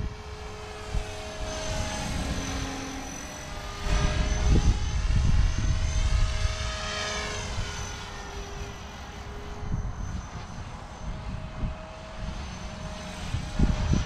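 A Blade 360 CFX remote-control model helicopter's rotor whine buzzes continuously, swelling and fading as it moves around outdoors, with wind rumble underneath.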